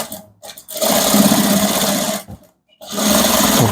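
A sewing machine top stitching a welt pocket on chinos runs in loud, steady bursts of rapid stitching, close up, stopping briefly twice between runs.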